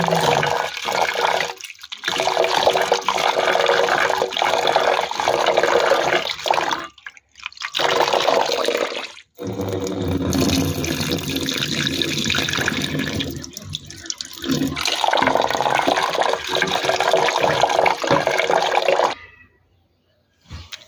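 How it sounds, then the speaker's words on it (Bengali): Lentils being washed in water, a loud running splash of water and rinsing that fills most of the stretch, broken by a few brief pauses and ending in near silence. "ডালটা ধুয়ে"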